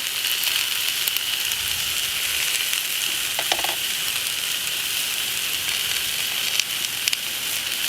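Butter and hibachi vegetables sizzle on a hot Blackstone griddle, a loud, bright, continuous hiss with occasional spatters and faint scraping, close up and without talk.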